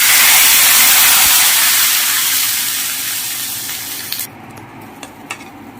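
Hot tempering sizzles loudly as it is stirred into sambar, a steady bright hiss that gradually fades and drops off sharply, leaving faint crackles.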